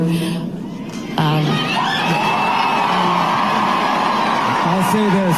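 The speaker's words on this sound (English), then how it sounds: "I want to thank you all for your applause" An audience at a talk-radio event cheers and whoops loudly, with shouting and a crowd roar that continues under someone speaking.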